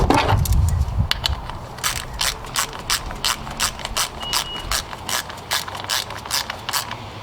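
A ratchet wrench clicks in quick bursts, tightening 8mm screws on an ignition coil of a Ford 3.5L DOHC Cyclone engine, rhythmic sharp ratcheting close by after an initial knock.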